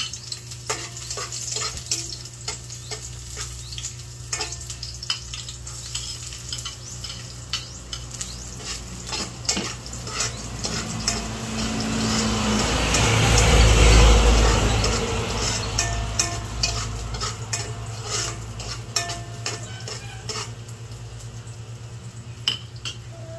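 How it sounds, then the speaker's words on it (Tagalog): Garlic and onion sauté in a hot pan, a continuous sizzle broken by frequent sharp clinks and scrapes of a utensil stirring against the pan, swelling louder for a few seconds midway before settling back. "Akin na po igigisa ito pong bawang at sibuyas."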